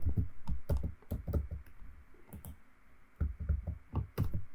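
Short bursts of typing on a computer keyboard, close and fairly loud, with clusters of crisp key clicks separated by brief pauses.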